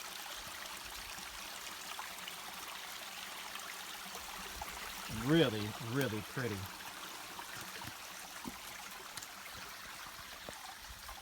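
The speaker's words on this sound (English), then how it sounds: "And of course the creek continues on down" A creek runs near a waterfall in a wooded area, giving a steady, close rush of flowing water throughout, briefly overlaid by someone speaking.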